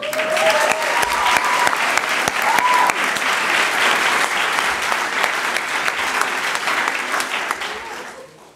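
A large crowd at a graduation ceremony claps loudly and steadily, with a brief whistle or cheer near the start. The applause slowly fades at the end.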